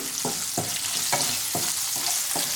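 Okra frying in a pan with salt, a continuous hiss of sizzling oil broken by regular scraping stirs of a spatula, about six strokes in quick rhythm, close up and with no talk.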